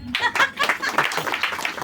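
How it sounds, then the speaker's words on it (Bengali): A small audience breaks into brief applause, a short patter of clapping hands mixed with a few chuckles, close and lively for under two seconds. "তাদের দুজনের জন্য একটা হাততালি।"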